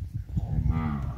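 A Nelore calf on a cattle farm lets out a single close, loud moo that swells briefly over low background rumble.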